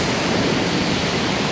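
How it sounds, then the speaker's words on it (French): Small waves break and wash in Portivy harbour in Brittany, a steady broad rushing hiss of surf, close and continuous with no talk. "on a le bruit des petites vagues"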